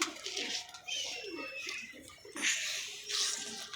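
Pet pigeon cooing in short soft phrases, with watery splashing and other bird sounds mixed in, fairly close and moderately quiet.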